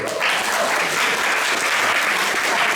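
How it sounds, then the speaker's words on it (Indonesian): Steady, lively applause from a crowd of children and adults at a Sunday school Christmas event in a church, continuous and fairly loud throughout. "Tepuk tangan dulu"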